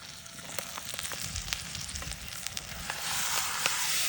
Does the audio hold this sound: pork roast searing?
yes